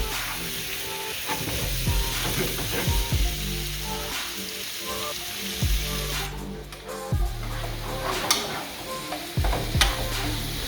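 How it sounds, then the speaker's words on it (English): Shrimp given a quick sauté in a pot for a Jamaican coconut curry shrimp dish, a loud continuous sizzle with repeated scraping and clinking as the shrimp are stirred, no speech. "I'm going to give it a quick saute to seal those juices in"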